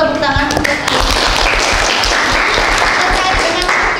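A school class bursts into applause, a dense, loud patter of many hands clapping close by that carries on steadily for several seconds, with voices mixed in underneath.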